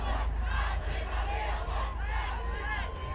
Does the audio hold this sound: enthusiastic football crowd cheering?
yes